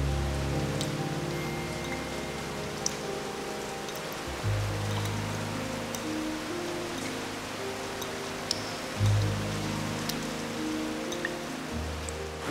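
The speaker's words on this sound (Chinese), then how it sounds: "你看，你看，现在下雨哦，我们就躲。" Steady rain pours down outdoors, a dense even hiss with scattered drops tapping on surfaces, continuous and fairly loud throughout with no voices.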